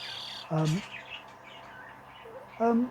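Budgies and zebra finches in an aviary give two short, loud chirps about two seconds apart over faint background twittering.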